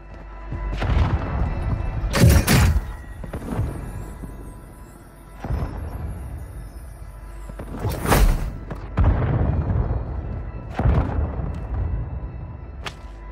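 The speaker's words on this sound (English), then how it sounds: "Friendly mortar strike inbound." Mortar strike explosions in Warzone Mobile set in Verdansk: several heavy booms and thuds land a few seconds apart, some sharp and crackling, over a rumbling battlefield background.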